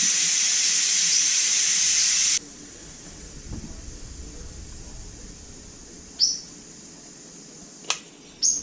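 An Instant Pot holding beef stroganoff vents steam in a loud, steady hiss for a couple of seconds that then cuts off abruptly, leaving quiet kitchen background broken by a few short clicks.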